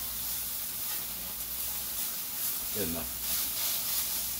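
Hash browns frying in a pan, a steady broadband sizzle filling the scene with a short spoken remark partway through.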